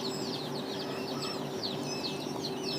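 A crowd of several hundred newly hatched chicks from an incubator cheep continuously, with many overlapping high peeps repeating over a steady background hum.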